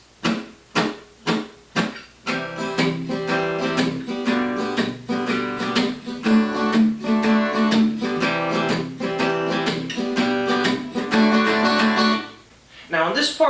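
Acoustic guitar playing the bridge into the chorus of a song, opening with a few separate accented strums before settling into continuous rhythmic strumming, then a brief pause near the end.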